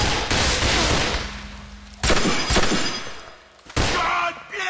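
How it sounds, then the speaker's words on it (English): Gunfire in GTA IV, several loud, close bursts of rapid shots separated by short pauses, with a voice shouting between them. "I'm gonna shoot you!"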